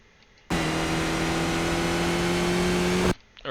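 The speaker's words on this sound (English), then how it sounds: "Getting on the throttle, again from third gear up into fourth and" A Skip Barber race car in iRacing on the reversed Knockhill circuit: a loud, close engine drone that rises slightly in pitch under throttle, starting and stopping abruptly after about two and a half seconds, with no talking.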